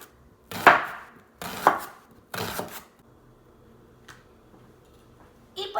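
Knife slicing an onion into small, thin pieces on a cutting board, three firm separate cuts in a row, close and fairly loud, followed by quiet handling and a faint later knock.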